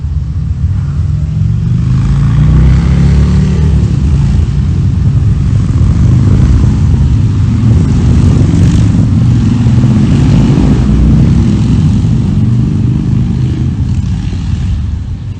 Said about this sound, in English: I know you hear in the background the motorcycles rumbling.